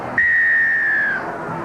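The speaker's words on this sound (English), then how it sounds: "Bill Harrigan with a whistle for the second half" A referee's whistle at a 1997 rugby league match between Brisbane and the Auckland Warriors gives one long, steady, piercing blast of about a second, heard clearly over a constant crowd murmur.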